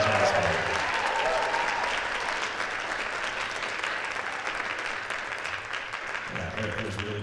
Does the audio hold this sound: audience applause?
yes